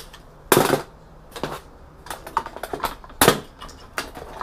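Cutters snip pins out of a low-grade power circuit board, giving a handful of sharp, close snaps and clicks at irregular intervals with quiet gaps between them.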